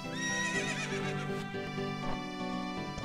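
A horse whinnies in Zelda: Master of Time, an Ocarina of Time ROM hack: a loud, clear neigh with a falling, wavering pitch, heard alone against game audio.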